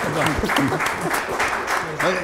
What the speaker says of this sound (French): Mesdames, messieurs, applaudissez.